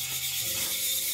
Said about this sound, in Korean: 그래서 오늘 사포질 할 거예요.